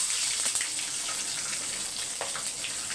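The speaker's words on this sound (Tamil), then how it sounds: "உடச்சி சேர்த்து நல்லா பொரியணும்" Green chillies frying in hot oil for a tempering, a steady close sizzle with faint crackles and pops, no talking.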